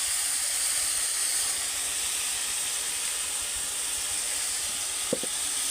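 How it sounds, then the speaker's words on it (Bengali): Prawns and garlic fry in a pan on a clay hearth, making an even, continuous hiss and sizzle at moderate loudness, with one faint click near the end and no talking. "চিংড়ি মাছটা রসুনটাকে নিয়ে আমি একটু ভেজে নেবো"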